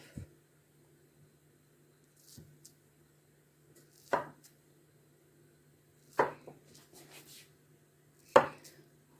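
A knife cutting makroute dough stuffed with date paste into diamond shapes, four or five separate firm chops against a board at spaced intervals, close, over a quiet low hum with no speech.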